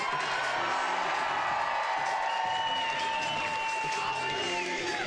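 Crowd at the 2017 AVP San Francisco Open beach volleyball finals cheering, whooping and making noise, a steady loud roar of many voices with whistles and shouts throughout.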